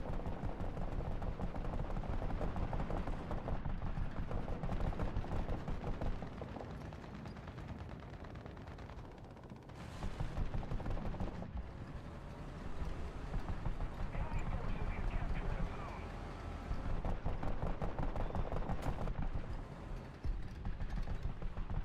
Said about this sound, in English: That autocannon is quite loud.